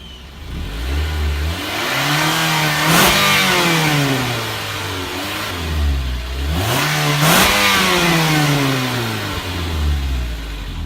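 A 2018 Mitsubishi Outlander with its smaller engine and front-wheel-drive CVT revs loudly near the exhaust in two long rising and falling surges, dropping back to a low idle in between.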